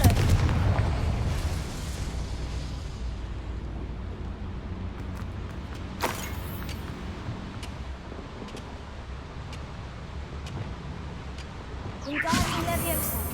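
Confringo fiery blasting spell cast in Hogwarts Legacy: a sharp booming blast midway, then another burst of explosions near the end, over a low rumbling game background.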